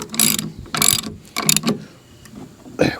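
A bolt fitted with a lock washer is cranked down with a ratchet on a self-serve firewood stand, giving three loud bursts of rapid close clicking separated by short pauses and a final shorter burst.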